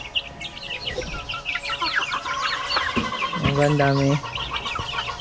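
A mother hen with her brood of chicks clucking close by, with high peeping chirps filling the background and a louder drawn-out cluck near the end; a person speaks briefly.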